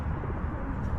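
A large flock of birds, hundreds gathered in a cemetery, coo in a dense, continuous low murmur close by while being fed, with no talk.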